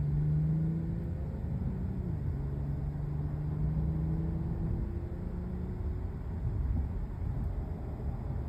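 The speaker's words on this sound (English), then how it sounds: "I really like the exhaust note" Infiniti Q60 Red Sport 400 in Sport Plus mode accelerating, its exhaust a steady low droning rumble with a gently rising and dipping tone, heard from inside the cabin and fairly loud throughout.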